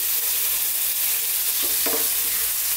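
Ripe red tomatoes for shakshuka sizzling in a frying pan while being stirred, a loud steady hiss of frying with a couple of soft scraping stirs near the end, close up and without talk.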